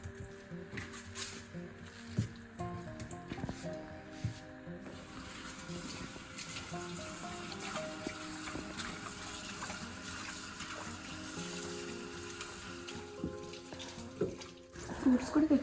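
Small chicken pieces being rinsed under a running kitchen tap, with a steady stream of water splashing into the sink and faint handling of the meat beneath it, continuing throughout with no clear talk.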